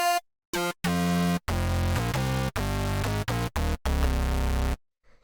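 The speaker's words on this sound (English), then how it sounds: "What this is your pretty standard sort of FM bass." An FM bass patch from Ableton Operator with its low-pass filter switched off plays a run of bright, buzzy, harmonically dense notes in short and sustained bursts, with gaps between phrases, loud and alone in a Detroit house setting.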